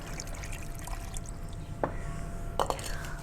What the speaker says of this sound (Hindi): 1 कप पानी इसमें डालेंगे